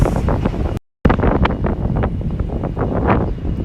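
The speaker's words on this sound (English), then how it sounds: "I apologize for the wind." Heavy wind buffeting a microphone, a loud rumbling roar with gusty bursts that cuts out briefly before resuming.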